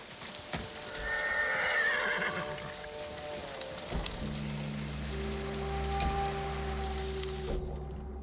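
A Mongolian horse whinnies loudly in Ghost of Tsushima, its cry rising and trailing off near the start, followed by a long, low droning ambience with a faint patter like rain.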